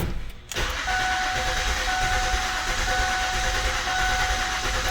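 A Ford 3.5L DOHC V6 engine cranks and catches, then settles into a steady, loud idle close by; no voices.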